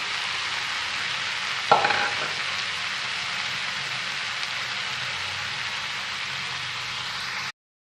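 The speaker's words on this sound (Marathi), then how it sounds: "व्यवस्थित मिक्स करून घ्यायची आहे भाजी" Red amaranth greens are stirred in a frying pan, giving a steady, close hiss of gentle frying with one brief clatter of a utensil near the start and no talk.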